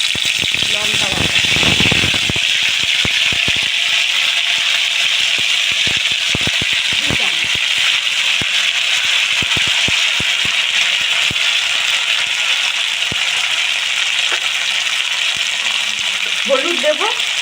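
Ginger, cumin and chili paste sizzle and fry in hot oil in a wok, a steady loud crackle throughout with brief stirring clatter near the start, while a voice speaks over it.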